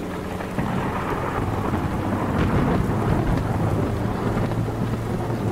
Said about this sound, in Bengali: গুড়গুড় করে মেঘ ডাক।